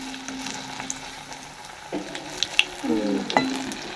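Cauliflower pakoras frying in hot oil in a home kitchen, a soft steady sizzle with a few sharper clinks and stirring sounds near the end.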